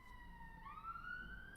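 A police car siren in the JoJo's Bizarre Adventure Stone Ocean anime, a single rising wail that sweeps upward, quiet and somewhat distant over a low background hum.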